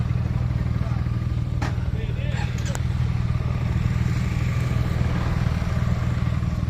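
Motorcycle rolling in at dusk at the Golden Triangle on a ride from Kuala Lumpur to Mae Hong Son, a steady close engine drone throughout with brief clatter, people talking over it.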